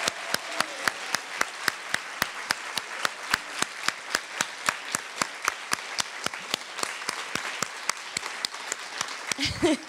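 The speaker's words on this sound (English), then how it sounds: "Let's give a big round of applause to Hedy" An audience at a poetry book release celebration claps in a steady, evenly spaced rhythm for about ten seconds, with faint voices beneath.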